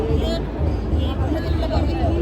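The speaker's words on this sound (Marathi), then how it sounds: "हांगा सगळी गर्दी आसा" Dense babble of many voices close around at a temple festival chariot procession (jatra) in Madkai, Goa, a busy crowd talking all at once with no single speaker standing out.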